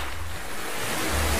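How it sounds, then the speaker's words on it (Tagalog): Ocean waves break on a beach at Limliwa Beach, San Felipe, Zambales, a steady loud wash of surf with wind-like noise and a low rumble swelling near the end. "Yung naririnig mo yung hampas ng mga alon,"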